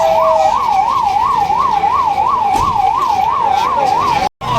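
A loud, near fire brigade siren wails in a fast, even up-and-down sweep during a mock fire drill at Gate 1 of the Shri Krishna Janmasthan in Mathura, running steadily before cutting out briefly near the end.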